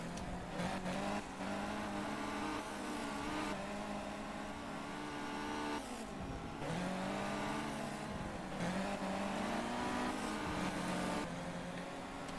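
F2 race cars in a sim racing game drone and rev continuously, engine pitch rising and falling through gear shifts and corners, several cars overlapping close by with no talk over them.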